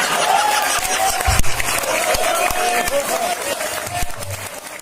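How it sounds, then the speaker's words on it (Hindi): An audience at a Hindi satirical poetry performance claps steadily, a continuous wash of many hands at moderate loudness, while a voice talks over it. "खूब हंसो और तालियां बजाओ"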